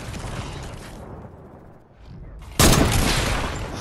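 A shotgun fires in a low-gravity video game, one sudden loud blast that jumps out after a quieter stretch of rumbling game sound, then trails off slowly.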